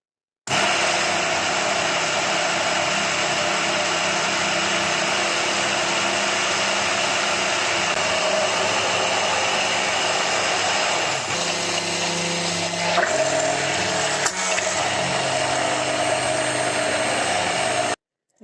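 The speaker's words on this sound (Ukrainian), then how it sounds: "ми продовжуємо в такому ж темпі і в такому ж положенні блендеру збивати майонез" A hand blender whips homemade mayonnaise, giving a loud, steady motor whir that runs unbroken for about eighteen seconds, with slight shifts in pitch late on and no voices.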